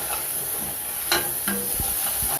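Salted, masala-coated spiced potatoes are mixed in a hot pan, giving a steady sizzling hiss with a few scraping, clinking stirs and no talking.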